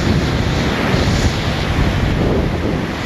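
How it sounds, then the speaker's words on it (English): Rough ocean surf rolls onto a windy Fort Lauderdale beach, a continuous loud roar of breaking waves mixed with heavy wind buffeting the microphone. "And the water and the wave is rough."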